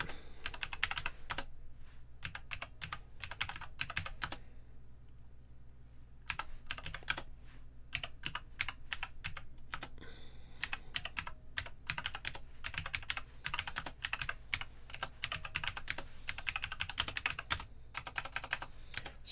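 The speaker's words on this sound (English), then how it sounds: "I'm gonna start typing in the background" Continuous clicky typing on a computer keyboard in bursts with brief pauses, moderately close and steady for the whole stretch, with no talking over it.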